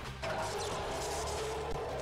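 A sudden smash of breaking glass hits a quarter second in, in the video game Super Monkey Ball: Banana Blitz, and a steady wash of loud game noise carries on afterward.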